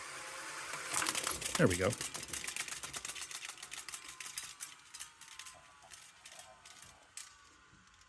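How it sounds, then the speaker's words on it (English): Reel-to-reel tape machine being hand-slowed and stopped, a rapid run of mechanical clicks and ticks that gradually slows and spaces out, with a short spoken remark early on. "I love that sound of the tape stopping."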